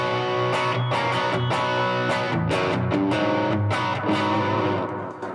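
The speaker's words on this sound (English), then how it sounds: "So what I'll usually have on is the BB Preamp, which sounds like this on its own" Electric guitar played through a BB Preamp overdrive pedal, giving a mid-focused, Marshall-like crunch; sustained distorted chords ring continuously at steady loudness, with repeated strums and no talking.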